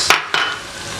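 Salt stirred into pilau frying in a pot, two quick scraping stirs near the start over a steady sizzle that fades slightly.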